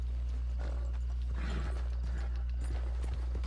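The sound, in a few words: horse hooves clopping in video game Red Dead Redemption 2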